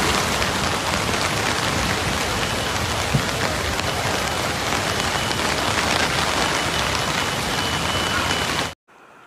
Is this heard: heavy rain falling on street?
yes